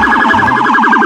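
A toy police car siren wails loud and close in a rapid, steady up-and-down electronic warble with no break.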